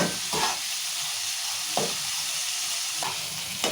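Chillies, onions and tomatoes fry in hot oil for wheat rava upma, giving a continuous close sizzle broken by a few sharp scraping stirs of a spoon against the pan.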